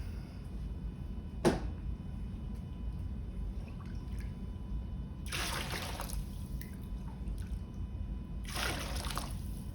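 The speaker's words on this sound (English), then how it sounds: "I'm gonna take a little bit more water out of it." Water poured off during meal prep in a home kitchen, two short splashing pours a few seconds apart, the second near the end, over a quiet room hum with a single sharp click before them.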